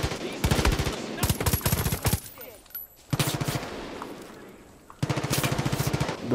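Far Cry 5 video game gunfire comes in rapid automatic bursts, loud and close, with short pauses between volleys and brief talking in the gaps.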